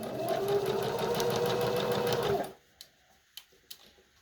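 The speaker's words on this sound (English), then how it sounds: "I'm going to run this through the machine again with a 1/4 inch seam." A sewing machine runs steadily for over two seconds, stitching a quarter-inch seam on a fabric face mask, then stops, followed by a few small clicks and taps of handling, close and clear with no talking.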